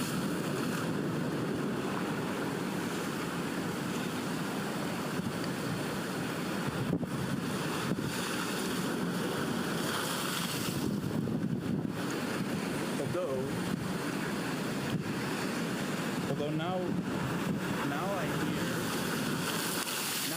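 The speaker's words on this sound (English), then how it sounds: "I remain still, and I listen to the sea, that grave of empire." Steady ocean waves and wind wash across the whole stretch as a constant, moderately loud roar with gusty microphone buffeting, while a voice speaks briefly over it.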